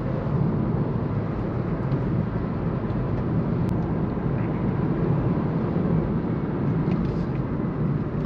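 An MG3 Hybrid+ hatchback rolls along a very rough country road, its steady broadband tyre and road rumble heard from inside the cabin, continuous and unbroken.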